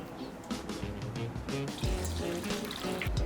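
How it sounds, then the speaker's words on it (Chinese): Water draining from rinsed mung beans, a soft, irregular trickle and splash with gurgling pulses, fairly quiet and close, running on for a few seconds. "把水滤掉"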